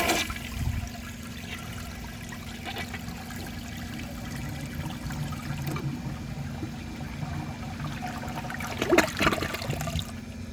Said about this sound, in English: Now let's see how it flushes with a clogged siphon jet.